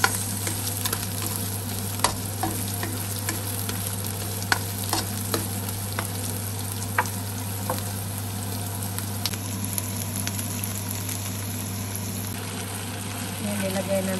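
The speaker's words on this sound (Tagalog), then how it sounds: "Igisa na natin yung ating loya at sibuyas" Ginger and onion sautéing in a pan for spicy mussels and shrimp, a steady sizzle with scattered spatula scrapes and stirs over a constant low hum, close and moderately loud.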